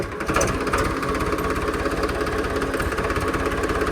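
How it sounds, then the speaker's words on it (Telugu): A tractor engine idles close by, a steady low chugging with fast, even pulses and no voices over it. "power tractor"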